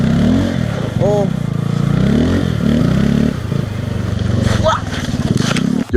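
Honda Grom motorcycle ridden through snow, its small engine droning and revving loudly and steadily throughout with scraping clatter, voices talking over it and a sharp knock near the end.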